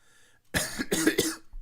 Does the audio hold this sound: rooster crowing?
no